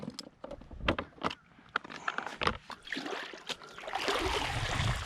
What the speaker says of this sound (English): I fill the bait bucket with some water.